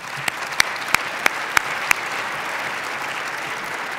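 Audience applause at the 2012 State of Downtown event in Sacramento: a steady crowd clapping for about four seconds with no talk, with several sharper individual claps standing out near the start.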